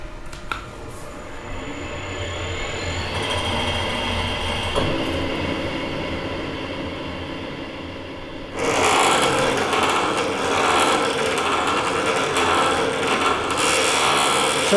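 A line boring bar on an HS250 machine cuts a thread in a nut, giving a steady mechanical whirr and grind that turns louder and harsher partway through.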